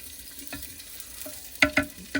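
Onions sizzle in a pot over low background noise while a few sharp metallic scrapes and clinks of stirring stand out near the end.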